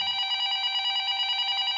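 A telephone rings with a steady, continuous electronic trill that holds evenly through the clip with no other sound.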